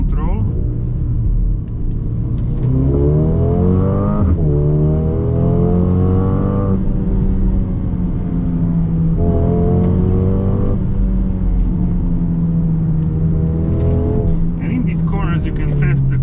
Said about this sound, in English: So that was race start, like launch control.